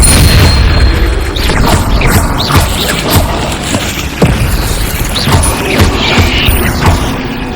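The Incendio fire spell being cast in Hogwarts Legacy, a loud, dense roar of blasts and crackling impacts that carries on without a break, with booming hits landing throughout.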